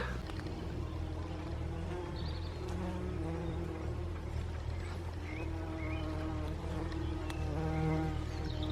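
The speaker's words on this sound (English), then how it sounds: "Well, meet Comfrey and the busy bees." Bees buzz among comfrey plants outdoors, a faint, continuous hum with brief higher whines as individual insects pass close, over a low steady background drone.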